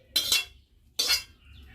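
A metal kadai is set onto a wood-fired clay stove with two bright clanks about a second apart, close and fairly loud, each ringing briefly before fading into quiet.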